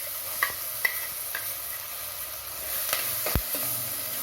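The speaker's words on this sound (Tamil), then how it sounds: "பச்சை மிளகாய், பெருஞ்சீரகம், மிளகு, கசகசா, இஞ்சி, பூண்டு, இது எல்லாத்தையும் சேர்த்து ஒன்றா அரைச்ச பேஸ்ட்டு சேர்த்துக்கிறேன்" Ground paste of green chilli, fennel, pepper, poppy seed, ginger and garlic hits hot oil for village-style egg kurma, giving a soft steady sizzle with a few light stirring clicks and one sharp knock.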